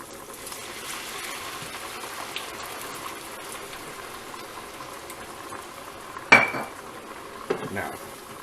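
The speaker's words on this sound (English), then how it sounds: "Now, we're going to stir this up." Mushrooms simmering with thyme and red cooking wine in a pan, a soft steady sizzle throughout, with a sharp utensil clank against the pan near the end and a few lighter scrapes after.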